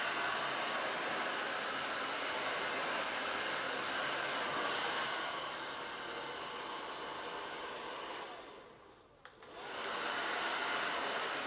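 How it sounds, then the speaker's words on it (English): A handheld hair dryer blows steadily during a round brush blow-dry, a loud, continuous broadband whoosh that dips briefly near the end as the dryer moves or is angled away, then returns at full strength. "You're able to hold the dryer much closer that way, and you get maximum drying."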